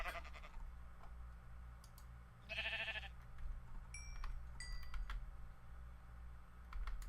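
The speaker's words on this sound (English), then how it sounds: "A sheep." Sheep bleating in the Minecraft modpack Agrarian Skies: one short, clear bleat amid quiet game ambience, with soft keyboard typing and small clicks around it.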